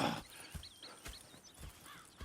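Horses in Red Dead Redemption 2 walk with soft, evenly spaced hoof clops, quiet and close, while faint whinny-like tones and other ambient calls sound in the background.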